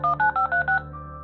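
Telephone keypad buttons pressed one after another, five crisp dual-tone beeps in quick even succession, close and clean, followed by a soft low hum once the dialing stops.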